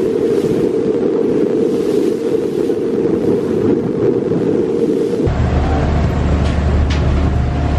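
Steady, loud wind buffeting a microphone on a ferry deck to Fuerteventura in the Canary Islands, with a deep roaring rumble like the boat's engine and rushing water taking over partway through.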